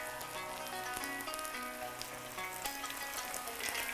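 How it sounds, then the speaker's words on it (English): Kibbeh balls frying in hot oil at about 350 degrees in a pan, giving a steady, dense crackling sizzle throughout at moderate loudness with no talking. "it takes only 1 minute to fry the kibbie on each side"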